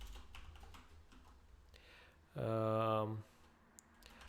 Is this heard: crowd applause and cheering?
no